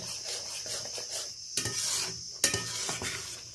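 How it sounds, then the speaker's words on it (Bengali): Spices being stirred with a little water in a pan for a pointed gourd and prawn dish, soft scraping and wet sizzle punctuated by two sharper knocks of the utensil. "জল দিয়ে ভালো করে নেড়ে নিচ্ছি মশলার সাথে"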